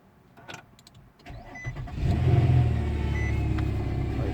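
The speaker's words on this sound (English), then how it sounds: "So right now I'll start the car, and the steering wheel is gonna start acting up because it don't have power steering fluid, but it's gonna start making noises" Car with no power steering fluid cranks briefly and starts, then settles into a steady, moderately loud idle with a faint whining tone over the engine.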